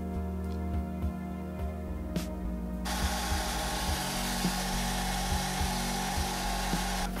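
A hair dryer blows steadily through a painting session, a loud continuous broadband whoosh switching on partway and running under low tonal hum and light tapping, with no talk.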